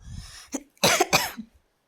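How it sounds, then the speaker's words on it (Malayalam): A person coughs several times in a short, rough burst, close by, preceded by a quiet breath. "എനിക്ക് ഭയങ്കര ചുമയൊക്കെ വരുന്നു"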